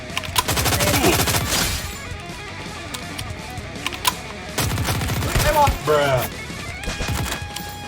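Shotgun fire in the Free Fire Max video game, several bursts of rapid loud blasts in clusters with short pauses between, mixed with other game effects.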